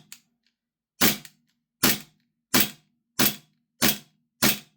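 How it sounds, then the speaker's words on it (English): Cybergun CANiK SFX Rival gas blowback airsoft pistol dry firing, six sharp, loud cracking blowback snaps spaced evenly about two-thirds of a second apart, close and alone with silence between. "But we'll give it a dry fire. We'll see if we can get this thing to blow back."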